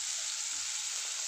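Onion fries in a pan for a spiced cauliflower and potato curry, giving off a steady, close sizzle with faint stirring scrapes underneath.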